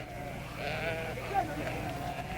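Sheep in a remote desert village bleat repeatedly at moderate distance, under a narrator's voice.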